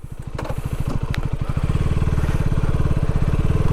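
A KTM Duke 250 motorcycle, third generation, idles and then revs through its loud exhaust, the rapid engine pulses rising and holding at a close, steady, loud level.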